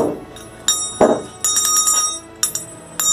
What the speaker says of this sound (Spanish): Así que voy a usar la campana.